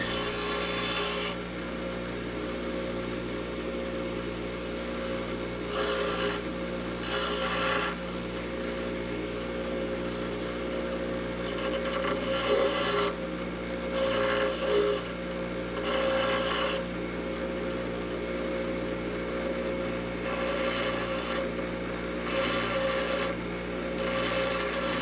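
Rhythmic rasping strokes from a hand file deburring and tapering the lead-in threads of a bolt during a solar equipment wall build, repeating in short bursts over a steady background hum with no talking.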